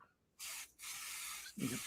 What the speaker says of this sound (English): No, spray the beard.